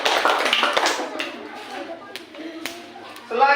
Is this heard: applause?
yes